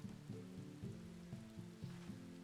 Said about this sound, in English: Of course it's raining in game.